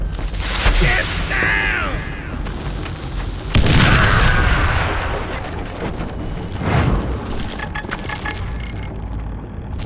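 An explosion inside a mine in the Call of Juarez: Gunslinger western shooter, with a loud deep boom and rumbling debris swelling after a shouted warning, followed by further blasts and a voice over the din.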